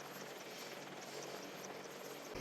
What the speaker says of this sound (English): The helicopters we use are Apache's AH-64 Deltas.